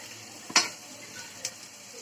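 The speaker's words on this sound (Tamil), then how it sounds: "வதக்கிக்கோங்க. வெங்காயம் வதங்கட்டும்." Onions are stir-fried in a pan for a cluster bean and cowpea poriyal, with a faint sizzle under a couple of sharp spatula scrapes and clicks against the pan.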